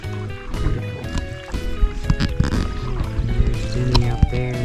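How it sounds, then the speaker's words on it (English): Canoe paddling on a Boundary Waters lake at sunrise, with close paddle strokes, water swishes and drips and knocks against the hull in an uneven rhythm. "Jenny up there just paddling on as we make our trek to the portage"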